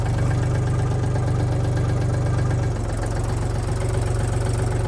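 Foton Lovol 244 mini tractor engine running steadily at about 900 rpm in first low gear, a loud, even low diesel chug with a rapid regular knock that continues throughout with no talk.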